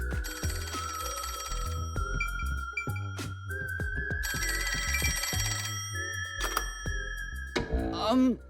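In the video game Rain Code, a phone rings in two long repeated bursts over ongoing background music and game sounds, loud and near, with no voices.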